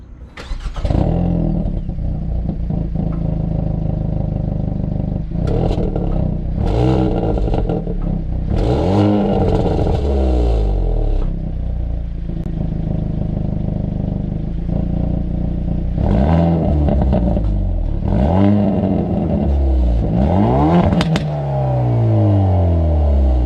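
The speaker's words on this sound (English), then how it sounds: "this vehicle actually has one of the best sounding factory exhausts I've ever heard" A 2020 Hyundai Veloster N with a 2-liter turbo engine and valved factory exhaust revs loudly several times, each rise and fall of the engine note followed by crackling bursts, with no talking.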